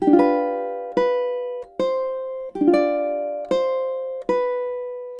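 Ukulele strums through measures 21 and 22, six evenly spaced chords with each one ringing and fading before the next, close and clear with no voices.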